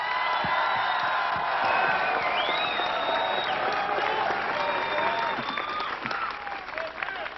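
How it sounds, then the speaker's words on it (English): An audience in Little Saigon applauds veterans at a 2000 gathering with Senator John McCain, a sustained wash of clapping laced with scattered whoops and cheers that thins out toward the end. "Let's give a round of applause to all veterans and all those who fought for freedom in South Vietnam"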